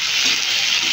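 Fried rice frying in a pan while being stirred, giving a steady close hiss of sizzling with no clear individual scrapes, alone for about a second.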